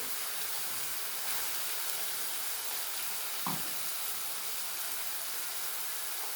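Spice masala frying in a pan for a bata fish dish, with a steady, loud, close sizzle and hiss that runs unbroken throughout and carries one brief stir or scrape partway through.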